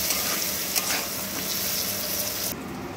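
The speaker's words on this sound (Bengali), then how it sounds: "এবারে একটু লাল করে আলুগুলোকে ভেজে নেব" Small potatoes fry in a pan with turmeric and Kashmiri chili powder, a dense continuous sizzle with occasional stirring scrapes that thins out suddenly near the end.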